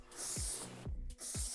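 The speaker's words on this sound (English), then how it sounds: "just spray it out" Two bursts of aerosol spray hiss, close and loud, cleaning Beretta M9A3 pistol parts, with a short pause between them and a brief clack of a part being handled.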